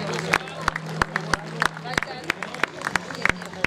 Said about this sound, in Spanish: Daniel López y Tatiana Huida, fuerte el aplauso para la gente de Fortín Loma Verde.